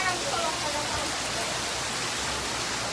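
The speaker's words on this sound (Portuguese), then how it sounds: "essa chuva aqui veio pesada, viu?" Heavy rain pouring down on a flooding street in Ceará, Brazil, a steady dense hiss of falling water, loud and continuous, with faint talk underneath.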